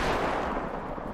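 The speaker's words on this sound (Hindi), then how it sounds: "रूसी सेना ने खार्किव में जबरदस्त गोलीबारी की।" A Russian tank fires shells in Kharkiv during the war, giving a dense, rumbling roar of artillery gunfire that fills the whole second and slowly fades.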